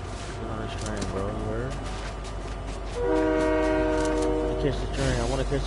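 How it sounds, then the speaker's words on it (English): A Fortnite train horn blares in steady sustained tones as the train rolls past, loud and close, joining rumbling rail noise, with a player talking over the game sound before it. "A train coming?"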